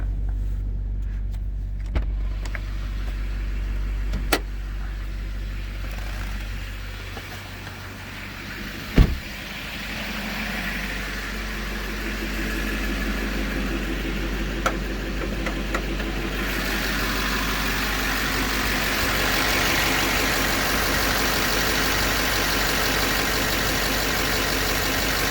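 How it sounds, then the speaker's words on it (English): Diesel car engine idling after a Tribotex treatment, a steady low mid-pitched hum running throughout with a brief sharp knock near the middle and a slight rise in noise toward the end, no talk. "And now let's go listen to the engine."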